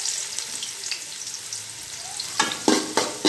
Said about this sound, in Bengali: প্রথমেই একটা বড় পাত্রে তেলের ভিতরে পেঁয়াজ দিয়ে দিলাম